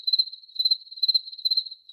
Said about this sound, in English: Absolute crickets.